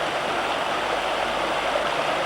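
River water runs in a steady, broadband rush through a forest reserve, loud and close, continuous with no pauses and no voices.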